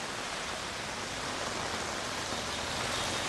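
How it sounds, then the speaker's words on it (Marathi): Heavy rain pours steadily over Amravati city, a dense, continuous broadband hiss of downpour with no pauses, fairly loud and unbroken throughout, with no voices. "अमरावती शहरामध्ये तासाभरापासून जोरदार पाऊस सुरू आहे"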